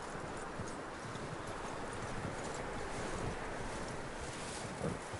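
Horse hooves clip-clop steadily in Red Dead Redemption 2, a continuous rhythmic trot under a constant wash of wind, with a brief louder stir near the end and no voices.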